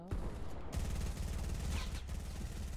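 Rapid bursts of automatic gunfire from a Fortnite Battle Royale match, loud and continuous with stuttering repeated shots over a fight, and a brief voice underneath.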